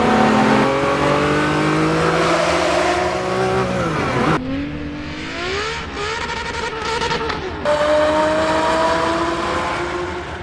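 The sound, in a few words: Ferrari F50 naturally aspirated V12 engine revving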